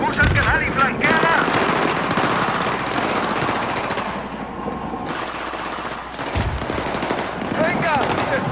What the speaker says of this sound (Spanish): ¡Ametralladora enemiga al otro lado!